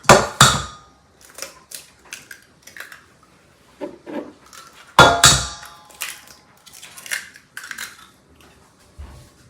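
Two eggs are cracked into a bowl of muffin batter for carrot muffins, giving sharp, close knocks and clinks against the bowl, followed by scattered lighter taps and scrapes.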